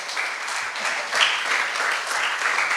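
A church congregation at a New Year service applauds together, a steady, dense wash of clapping from many hands that runs throughout at moderate volume.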